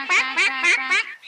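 Cartoon ducks quack loudly and close up in four quick rhythmic calls, hungry birds on a farm, with no talk over them.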